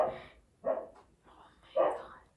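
A pet dog barks several times nearby indoors, three short separated woofs spaced about a second apart, fairly clear against a quiet room.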